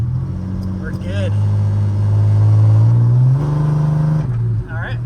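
A cheap Fiero fitted with a straight pipe exhaust accelerates through the gears, its loud droning engine note rising and holding from inside the cabin, with brief voices heard.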